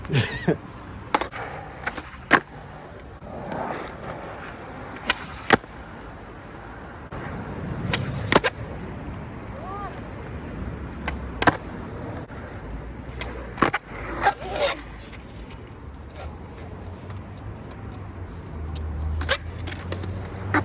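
Skateboard on Tensor trucks doing a run of flip tricks, with sharp pops and clacks of the board landing at irregular intervals over rolling wheel noise and scraping.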